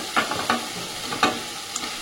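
Fried kohlrabi and potato pieces added to a pan of sizzling fried masala, a steady close sizzle with several sharp stirring scrapes of a spatula at uneven intervals.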